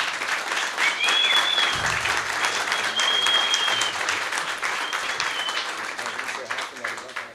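An audience applauds at the close of a DADx talk about a paternity-leave coalition. Dense, steady clapping fills the room for several seconds and fades only slightly toward the end.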